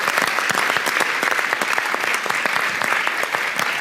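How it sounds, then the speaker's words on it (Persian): A seated audience at a religious gathering claps together in dense, sustained applause, loud and even throughout, with no speech over it. "خب سید حسنین الحلوی عزیزم رو تشویق بکنیم"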